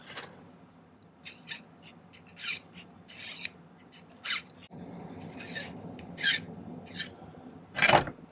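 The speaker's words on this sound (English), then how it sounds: "So let's file this flat." A hand file rasps across a piece of metal being flattened for a tension bracelet, in a series of short, separate scraping strokes at an uneven pace, close and clear in a quiet room.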